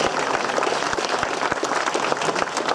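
Outdoor crowd applause at a cycling time-trial prize ceremony, steady dense clapping with distinct nearby claps popping out of the wash.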